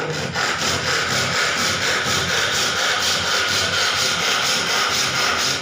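Hand saw cutting a wooden joint for a window frame, steady rhythmic back-and-forth rasping strokes close up, continuous and fairly loud with no talking.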